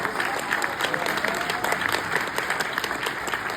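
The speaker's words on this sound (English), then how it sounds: "Give them a round of applause." Audience at a national Black business conference breaking into steady applause, a dense wash of many hands clapping together that holds at an even level throughout.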